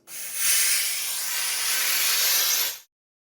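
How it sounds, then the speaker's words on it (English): A steam mop's loud, steady hiss of mid-range steam bursting on close by, holding for a few seconds, then cutting off abruptly into silence. "So I'm gonna clean this with mid-range steam to start, see how it goes."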